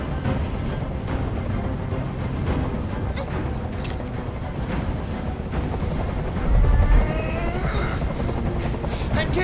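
A helicopter hovers in the video game Detroit: Become Human, its rotor chop a loud, continuous rhythmic thumping close overhead, with mechanical clatter under it throughout.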